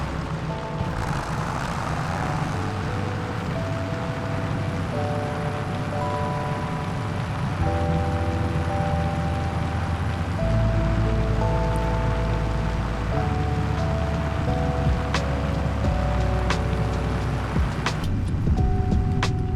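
A farm vehicle drives through the countryside in a farming video game, its engine a steady droning hum with tonal shifts as it moves along, running continuously with no speech.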